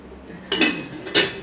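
A metal ladle clinks against a cooking pot while tempering dal in a village kitchen, two or three bright, close metallic knocks spaced apart over a quiet background.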